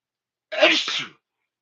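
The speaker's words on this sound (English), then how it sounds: "I gotta sneeze." A single sharp sneeze, close and fairly loud, bursting out after a moment of silence and fading quickly.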